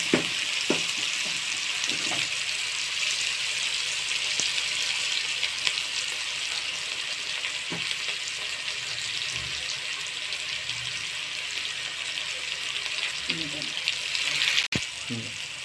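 Masala frying in a pan for a mixed potato, pea and carrot curry makes a continuous hiss and sizzle, with occasional spoon clinks and a sharp tap near the end.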